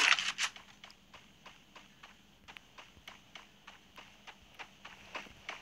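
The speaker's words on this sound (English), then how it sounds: "I can hear some footsteps." Footsteps in a shooter video game sound as a steady run of crisp, evenly spaced steps, fairly faint, with a louder burst of sound at the start.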